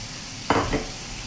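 Steak sears in a pan with a low, steady sizzle, cut briefly by one or two quick scraping bursts from a utensil.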